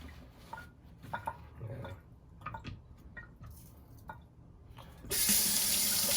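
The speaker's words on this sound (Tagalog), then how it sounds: "Especially the chicken, you have to wash it. Then wash it pretty good." Tap water runs over raw chicken being washed, with soft splashing and handling noises, then the flow turns much louder and fuller near the end.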